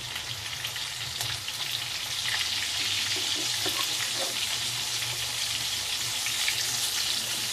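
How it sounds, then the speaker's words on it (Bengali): Pointed gourd (potol) pieces frying in oil, a loud, dense sizzle like heavy rain that holds steady and swells slightly after the first couple of seconds, with a few faint utensil clinks. "ভালো করে পটলগুলোকে আগে ভেজে নেব"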